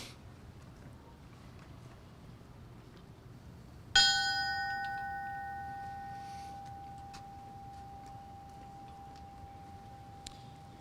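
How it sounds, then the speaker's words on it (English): At a fallen firefighter memorial ceremony in Edmonton, a memorial bell is struck once after quiet, its clear metallic tone ringing out and slowly fading over several seconds, heard alone against light outdoor ambience. "Ringing the bell will be his daughter Ashley."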